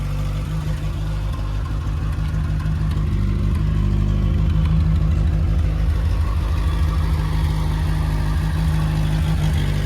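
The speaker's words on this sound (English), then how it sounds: "Just got a tweak in the carburetor now. A little bit of choke on. Sounds beautiful." A carbureted car engine runs with the choke partly on after a carburetor adjustment, giving a steady, close, throbbing idle with slight whirring and minor rev changes and no voices.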